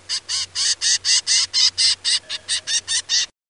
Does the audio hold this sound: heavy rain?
no